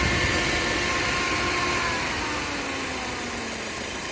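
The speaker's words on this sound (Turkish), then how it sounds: "Araba 94 derecede fan açtı." A 2006 Fiat Marea idles with its electric radiator cooling fan switched on, giving a steady, close whir over the low engine hum that runs unbroken and even throughout.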